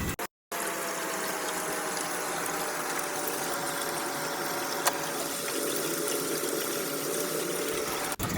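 Water from a hose runs at full blast into a 20-gallon high fish tank, a steady broadband rush with a faint mechanical undertone, briefly cut off near the start.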